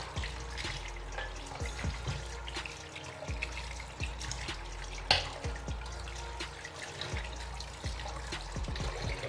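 Water splashes and trickles from a tap as an ingredient is rinsed in a kitchen sink while preparing uziza soup, with steady running water and a string of close clinks and small knocks throughout.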